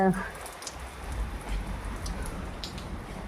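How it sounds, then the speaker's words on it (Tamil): Steady rain falls outdoors, a continuous close hiss of drops pattering on surfaces throughout. "அதுக்குள்ளே மறுபடியும் மழை"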